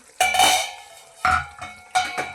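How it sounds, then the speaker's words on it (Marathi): A metal lid is lifted off a pot of cooking Bhogichi Bhaji, a mixed vegetable dish, with three distinct ringing clanks of metal on metal, each decaying briefly, close and fairly loud, with no talking. "आता आपण झाकण उघडून बघूया."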